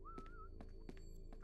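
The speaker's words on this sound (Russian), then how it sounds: "Хватит насвистывать, ты меня достал уже." A person whistles a short wavering tune softly at some distance, with faint knocks and thuds in a quiet room.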